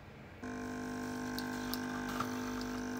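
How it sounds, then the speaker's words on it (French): A CoffeeB capsule-free coffee machine brewing espresso from a coffee ball: after a quiet start, its pump switches on and hums steadily with a tonal whine, and liquid runs through it, close and continuous. "Je mets une boulette de café. Je referme. Je pèse. Et j'envoie mon expresso."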